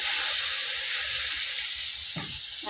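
A pot of Indonesian beef soup simmers at a home stove, giving a steady close hiss and bubbling, with a brief louder burst of stirring or bubbling near the end and no talk.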